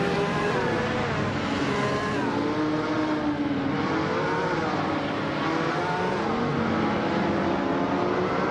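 Video game 1972 Ford Falcon XHE muscle car racing, its engine droning continuously with rising and falling revs as it holds speed, loud and steady without a pause.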